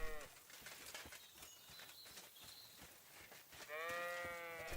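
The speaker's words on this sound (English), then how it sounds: "Yeah, I know what a sheep sounds like." Sheep bleat in a game setting during a knighthood quest, with harmonic bleats emerging near the end over busy background noise and movement.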